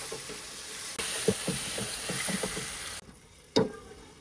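Chicken frying in a wok gives a steady broadband sizzle with spoon stirring scrapes; the sizzle cuts off abruptly midway, leaving near quiet before one sharp clank near the end.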